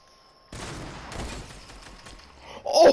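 Sniper rifle shot in Fortnite, a sudden sharp crack followed by a ringing tail and scattered game effects, with a louder burst at the very end.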